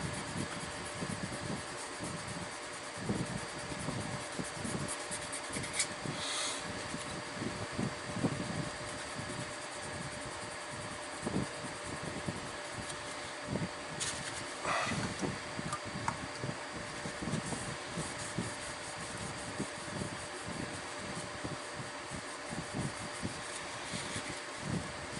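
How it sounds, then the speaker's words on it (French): An electric fan whirs steadily in the background of a hot garage during work on a 1968 Chevelle SS, a constant faint hum with scattered clicks and knocks over it. "si vous entendez le ventilo derrière, mais c'est trop chaud."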